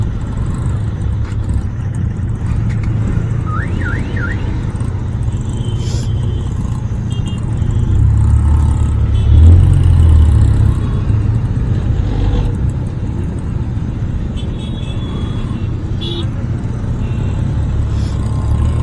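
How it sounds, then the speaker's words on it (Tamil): A Yamaha MT15 motorcycle on the move gives a steady, close mid-pitched engine drone with wind rumble, swelling briefly louder midway, with no talking. "என் வண்டி கிளச்சு ரொம்ப ஸ்மூத்தாக இருக்குங்க, லைட்டாக விட்டாலே போதும், அது மாதிரி சர்ன்னு போகும்"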